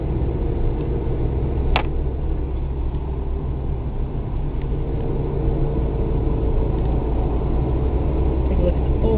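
Steady low rumble of a car engine and tyre noise from inside a slowly moving car passing by, continuous and fairly loud, with a voice speaking over it.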